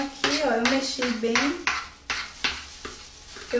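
Spoon stirring melted chocolate in a bowl while Easter eggs are being made, giving a series of scraping strokes against the bowl, with someone talking over them.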